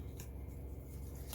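Scissors snip through foam tape while making a paper Christmas embellishment, two quick close crisp cuts in a quiet room.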